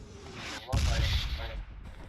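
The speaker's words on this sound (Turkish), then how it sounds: "Bomba yağdırıyorlar beyler." A single heavy blast from an airstrike bombing in PUBG Mobile, sudden and booming with a rumbling tail that fades over a second or so. It comes after a stretch of steady background noise.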